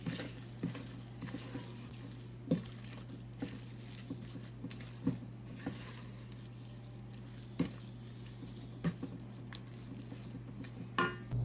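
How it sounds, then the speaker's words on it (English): Chocolate chips being stirred into vegan oat flour cookie dough, giving soft squishy scrapes and occasional light knocks of a utensil against the bowl, steady and close, with a constant low hum underneath. "Just go ahead and get these all stirred in."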